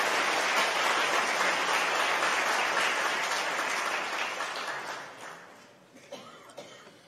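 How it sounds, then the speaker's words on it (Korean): Warm applause from a church congregation during a Sunday worship service, thanking the choir; steady broadband clapping that holds for several seconds, then thins and fades out near the end. "오늘만큼 우리가 따뜻한 감사의 박수로 한번 돌려드리겠습니다."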